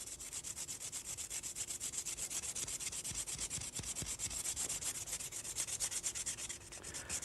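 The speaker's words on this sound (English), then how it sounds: "Just rub the black out or the blue out, whatever you like, and just grind that bevel" A blade bevel is ground on a sharpening stone in steady, rhythmic back-and-forth strokes, a close, continuous scraping rub with a few faint knocks midway and no talk.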